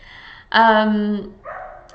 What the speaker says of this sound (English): There are some dogs outside and they're obviously having a party.